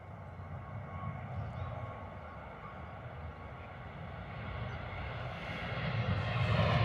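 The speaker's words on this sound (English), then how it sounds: "next departure, rolling, Boeing 737, Ryanair off to Bucharest" A heavy Ryanair Boeing 737 rolls for departure toward Bucharest at London Stansted, a low, steady distant engine rumble that slowly builds in loudness toward the end.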